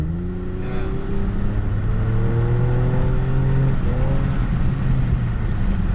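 A 2021 Toyota Camry TRD accelerates, its engine note rising in pitch across several gear pulls, loud and close with steady road noise underneath and no talking.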